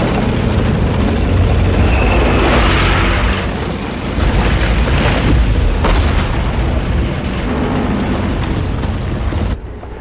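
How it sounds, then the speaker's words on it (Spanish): Katyusha rocket launchers, the Stalin's organs of World War II, fire a barrage in a Soviet offensive, a dense roaring series of booms and explosions that rumbles continuously for about ten seconds before cutting off. "con lanzacohetes llamados los órganos de Stalin"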